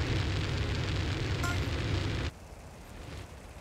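Fire roaring across weed fields being torched in GTA San Andreas, a loud dense rushing blaze that cuts off abruptly partway through, leaving a quieter low rumble.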